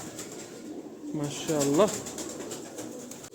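Pigeons kept by a hobby fancier coo in a short rolling burst at moderate distance, over light background noise, with a person speaking briefly nearby.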